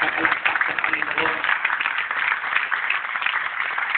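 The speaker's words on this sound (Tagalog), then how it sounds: "Sige, isa pang malakas sa palakpak sa Panginoon." A church congregation claps for the Lord during a worship service, steady dense applause sustained throughout, bright and close, with a voice speaking over it.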